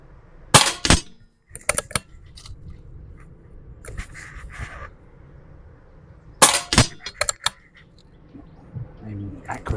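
.177 air rifle pellets strike a carpet-covered target in a few clusters of sharp, loud cracking impacts, with a voice talking quietly between the shots.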